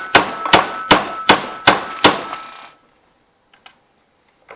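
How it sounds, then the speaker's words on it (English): Six sharp metallic smacks in a steady rhythm, close and loud, as a screwdriver is driven against the inside of a stuck gear to break it loose, trailing off into quiet with a couple of faint clicks. "I'm going to try to raise it up with this screwdriver and smack the inside of it"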